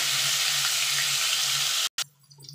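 Paneer pieces fry lightly in a pan for a matar paneer made without onion or garlic. A loud, steady sizzle sits over a low hum, then cuts off abruptly, leaving quieter faint clatter.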